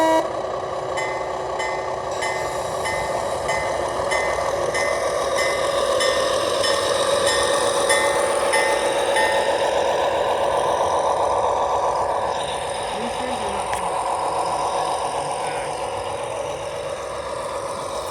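A G scale model locomotive runs with its onboard sound system, giving a steady diesel rumble with faint tonal horn-like chimes throughout, moderately loud and without talk.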